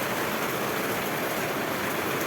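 Heavy monsoon rain pours down with water gushing from a pipe, forming a dense, steady hiss close by, with no voices.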